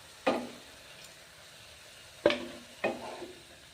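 Tomatoes frying in a pan for a tomato curry, with three sharp stirring scrapes and brief sizzle bursts spaced over a quiet background.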